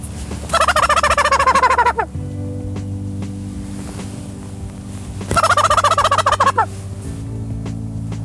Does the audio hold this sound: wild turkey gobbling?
yes